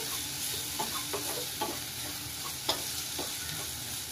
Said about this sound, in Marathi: ती सुद्धा इथे व्यवस्थित आपण परतून घेऊया.